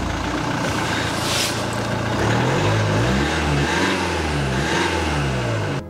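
A Mercedes C 200d diesel car engine, from the 2014-2016 generation, runs loudly up close, rising and falling through several revs in a continuous drone before cutting off at the end.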